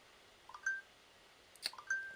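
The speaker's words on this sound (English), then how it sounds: "why is my phone going off?" A mobile phone goes off with a few short, faint electronic beeps, coming in two small clusters about a second apart against a quiet room.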